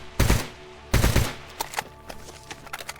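Automatic gunfire in the STALKER GAMMA video game: two loud, close bursts of rapid shots, followed by scattered, fainter single shots and distant fire.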